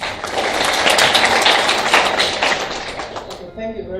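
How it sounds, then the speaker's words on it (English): Audience applause at a moot court competition final, dense sustained clapping from many hands that fades out at the end. "Round of applause."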